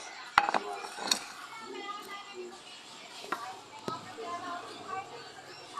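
A metal cooking pot, a kaldero for rice, is handled and set in place with a few sharp clanks and clinks near the start, followed by softer scraping while a person talks throughout.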